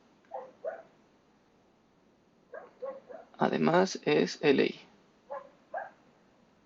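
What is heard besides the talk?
dogs barking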